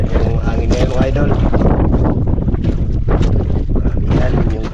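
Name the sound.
wind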